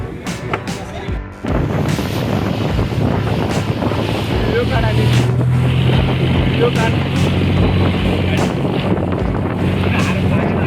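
A boat motor drones loud and steady on a sea crossing to Khanderi Fort, a low engine hum mixed with heavy wind buffeting and splashing water, starting after a brief pause.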